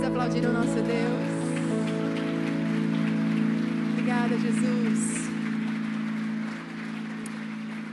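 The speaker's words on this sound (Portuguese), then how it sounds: "Vamos aplaudir o nosso Deus" A church congregation applauds in a dense, continuous patter of clapping that sounds almost like rain, with a steady tone sustained beneath it and a voice speaking briefly over it.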